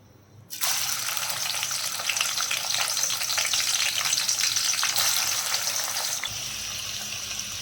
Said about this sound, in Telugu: ఒక గిన్నెలో నూనె పోసి మనం ఆనియన్స్ని బిర్యానీకి ఎలా ఫ్రై చేసుకుంటామో అలా రెడ్ కలర్ వచ్చేదాకా ఫ్రై చేసుకోవాలి